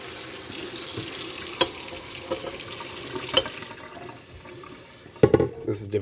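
Tap water runs steadily into a measuring cup at a kitchen sink while ramen is being made in a microwave, a continuous close hiss and splash that cuts off near the end, followed by a few clunks.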